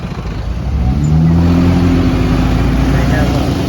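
Street traffic moving past a roadwork zone on Chapala's main street, where cars are funnelled to one side; a steady engine rumble swells and holds close by, with a rising drone of a passing vehicle.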